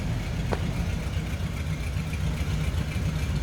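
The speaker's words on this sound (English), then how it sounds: "You can hear a little purr coming from that flathead." A 1946 Ford pickup's flathead engine idles smoothly and quietly, a steady low rumble with little variation, heard close up outdoors.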